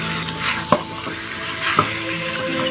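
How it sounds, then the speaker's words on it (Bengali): Mutton with onions stir-fried down for curry, with a spatula scraping and stirring through the pan over a soft, steady sizzle and a few sharp metallic clinks. "সুন্দর করে মাংসটাকে কষাবো"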